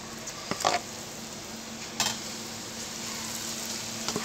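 A sweet laddu batter dropped into hot oil, frying with a continuous dense hiss and a few sharper crackling bursts, close and steady with no talking.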